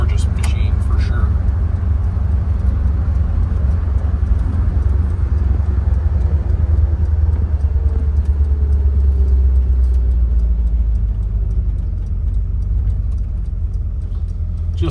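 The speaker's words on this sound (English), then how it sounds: "Just settles down to a perfect idle as we come to a light." A 1951 GMC 100 truck with a 468 big-block engine rumbles steadily at close range, its low drone easing down toward a settled idle, with wind noise and voices talking over it.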